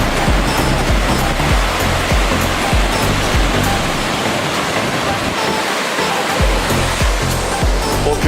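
A 200-foot waterfall at Havasupai roars in a steady, loud, dense broadband rush that never lets up, heard close with no voices over it.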